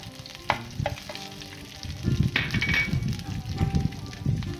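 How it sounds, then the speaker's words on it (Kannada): Paneer, green chilli, dried red chilli and capsicum frying and being stirred in a pan, a steady close sizzle with scraping stir strokes after a few early clinks. "ಇದೆಲ್ಲ ಚೆನ್ನಾಗಿ ಫ್ರೈ ಆಗುತ್ತೆ"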